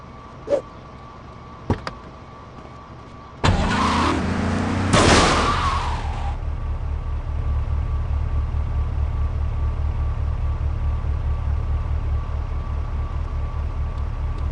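A car in the GTA Vice City video game: a few sharp clicks, then a loud burst of impact and rattling before a steady low engine idle rumbles on to the end, with no talk.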